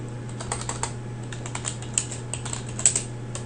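Computer keyboard typing out SQL code during a database lecture: a quick, irregular run of light key clicks over a steady low electrical hum, fairly faint and close, with no talking.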